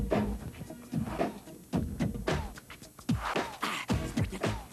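Someone beatboxes a drum pattern by mouth, with punchy kick-like thumps and sharp snare and hi-hat clicks in a tight, repeating rhythm, the voice imitating a drum machine.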